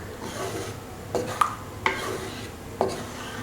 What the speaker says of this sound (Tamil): லைட்டாக கிண்டி விட்டுருங்க.